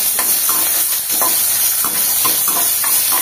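Chopped ginger and garlic fry in hot oil with browned cumin and fennel seeds, giving a steady close hiss broken by short crackles and occasional stirring scrapes.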